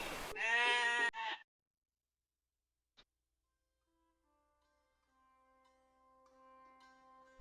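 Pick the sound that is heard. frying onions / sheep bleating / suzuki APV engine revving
sheep bleating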